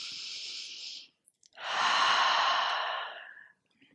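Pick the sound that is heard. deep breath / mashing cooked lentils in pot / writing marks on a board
deep breath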